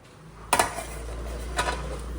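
A lid and dishes clatter while a freshly cooked home meal is covered, two brief sharp clinks about a second apart against a steady low kitchen hum, close and fairly quiet.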